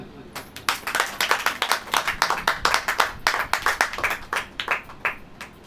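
A church congregation claps during a sermon, brisk uneven hand claps in a steady flurry for several seconds, fairly close and loud.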